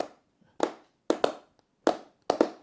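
Hands clap sharply and close by, single and doubled claps landing in a loose rhythmic beat with short silences between them.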